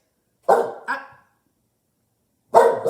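A dog barks close by: two quick barks, then a pause of about a second and a half before a third loud bark, with silence between them.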